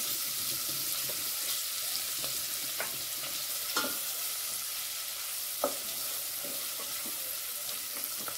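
Finely chopped onion frying in hot oil in a pan over a medium flame, a steady soft sizzle running throughout with a few brief stirring clinks and scrapes, near and fairly quiet, no talk.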